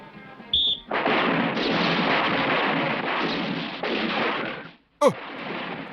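Gunshots fired at targets on a police firing range merge into a loud, sustained barrage that runs for several seconds. A brief tone comes first, and a sharp sweeping crack breaks in near the end.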